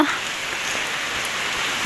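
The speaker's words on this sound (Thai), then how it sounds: "อันนี้ก็เป็นสภาพวันนี้กันฝนตกยาว" Heavy rain pours steadily during a long downpour amid local flooding, a loud, dense hiss of drops hitting surfaces close by, with no voices.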